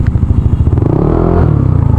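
Motorcycle engines idle and rev close by, a loud chugging rumble that rises in pitch as one throttles up.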